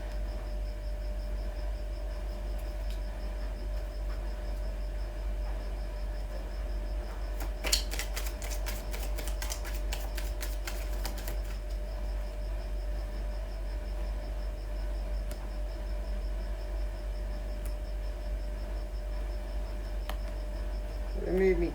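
Tarot cards are moved and shuffled together, a brief burst of rapid riffling clicks midway through, set against a steady low hum with otherwise quiet handling.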